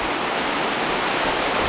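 Steady, loud broadband rush of a mountain river flowing in Aurora, continuous and unbroken with no voices over it.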